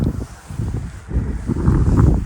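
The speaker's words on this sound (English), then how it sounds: "Windy." Gusty wind buffets the microphone on a cold, snowy day in Michigan, rumbling low and loud and building toward the end, with no talking.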